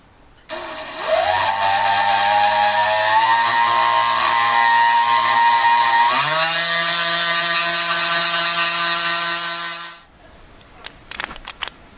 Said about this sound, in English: I'm going to do it with ball burrs